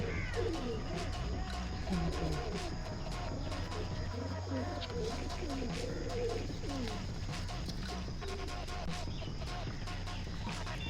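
A pair of white pigeons coos steadily and close by at a home pigeon sale, with soft bursts of wing fluttering. Someone talks over the birds throughout.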